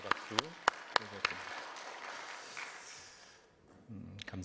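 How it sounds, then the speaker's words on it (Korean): Congregation claps in a Korean Sunday worship service, a quieter wash of applause with a few crisp claps under a speaking voice, fading out partway before the voice carries on alone. "우리 주님께 감사와 영광의 박수 드리겠습니다."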